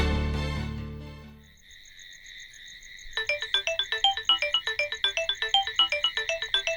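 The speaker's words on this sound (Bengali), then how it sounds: "আরে ডার্লিং এর ফোন, এই সময় কেন ফোন করছে ডার্লিং?" A mobile phone ringtone plays after a fading tone and a brief pause, its electronic melody repeating in quick, bright pulses at close range with no talking.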